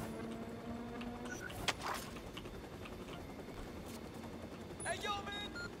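Distant gunfire in Watch Dogs 2 crackles in scattered bursts behind quiet game ambience, with a louder cluster of shots near the end, faint under low background sound.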